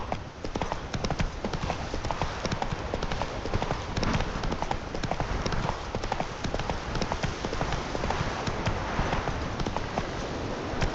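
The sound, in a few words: horse galloping in video game The Witcher 3: Wild Hunt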